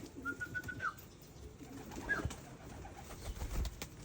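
Racing pigeons in free flight outdoors, with a couple of short bird calls and soft coos over a low background hum, no speech.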